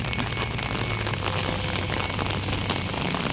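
Rain falls steadily on open ground as a SANY SY205H excavator sets out to recover a backhoe stuck in mud, producing a dense, even hiss with no voices.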